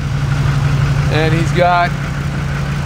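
Diesel truck engine idling during a blow-by field test, a steady loud low rumble running throughout while someone speaks briefly over it.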